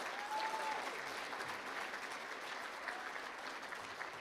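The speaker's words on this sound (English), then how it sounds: "Let's give all of them a round of applause" Steady applause from an audience at a student production awards ceremony, a broad even wash of many hands clapping at moderate volume for the whole stretch, with no voices over it.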